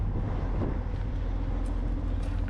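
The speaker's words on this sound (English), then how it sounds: "The truck has to be running because it's a PTO for all my hydraulics here." A 2014 Peterbilt 389 car hauler truck idles steadily to drive its PTO hydraulics, a loud, continuous low diesel rumble with no breaks.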